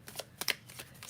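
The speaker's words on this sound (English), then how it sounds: "Let me just shuffle these cards a little bit." Tarot cards being shuffled by hand, a quick series of soft riffling flicks and slaps close up, brief and quiet with no speech.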